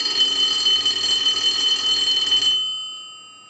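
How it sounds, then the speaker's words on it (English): An Automatic Electric three-slot payphone's newly installed bell rings in a rapid continuous metallic trill for about two and a half seconds, then stops and leaves a faint ringing decay and steady electrical hum. "We also installed the bell, so we'll go ahead and ring that now."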